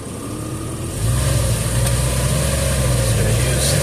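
Porsche Boxster S flat-six engine running steadily, its low droning note stepping up in pitch and volume after about a second and then holding a constant, loud hum close by.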